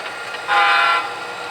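A model railroad train horn sounds one short, steady honk lasting about half a second, loud and close, over a constant background hum.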